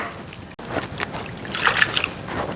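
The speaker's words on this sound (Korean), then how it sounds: "제가 다시 한번 헹구고 한두 번 정도 이제 더 헹궈 볼게요." Blanched perilla shoots are rinsed by hand in a bowl of water, giving close, soft sloshing and trickling with light splashes and drips throughout.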